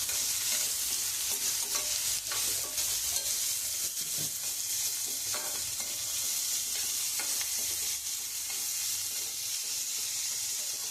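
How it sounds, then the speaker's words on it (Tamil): Thinly sliced onions sautéing in oil for South Indian poori masala, a constant crackling sizzle with hissy steam and repeated scraping stirs of a spatula, close and steady, no voices. "வெங்காயம் நல்லா கொஞ்சம் வதங்கிட்டங்க."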